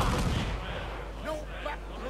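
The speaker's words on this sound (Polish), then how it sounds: "Daliśmy im strzał ostrzegawczy." A ship's cannon warning shot in Assassin's Creed IV: Black Flag booms once at the start, a deep blast that rolls away into a fading rumble, fairly distant and muffled.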